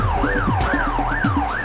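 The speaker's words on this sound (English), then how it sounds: "I've got sirens on, you morons!" A police car siren from The Getaway video game wails in a fast, repeated rising-and-falling cycle, loud and close over low vehicle rumble, with no talking.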